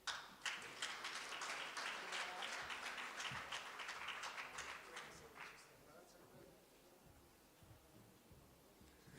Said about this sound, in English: Please give Mr. Pata another big round of applause